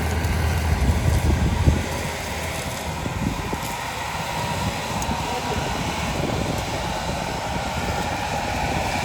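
A motorcycle engine runs steadily beside a farm field at dusk during spring sowing, a continuous broadband rumble with no break, fairly close and loud throughout.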